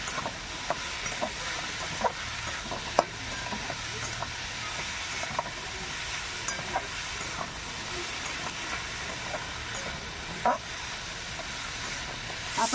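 Vegetables with capsicum, carrot and boiled potato fry in a pan under a constant hissing sizzle, with faint occasional taps and scrapes of a spoon as they are stirred, steady and moderately quiet.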